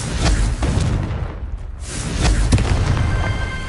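Confringo spell explosions in Hogwarts Legacy, several loud booming blasts with rumbling low end, a dip in the middle and another burst after, dense and close.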